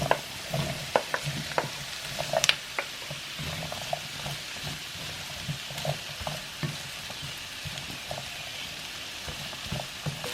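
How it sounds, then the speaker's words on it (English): Potatoes and onions sizzle steadily in a pan while being stirred, with scraping clicks of the utensil scattered over the continuous frying hiss, close and moderately loud. "The onions look nice and done now and soft. The potatoes are going to be put in to be cooked."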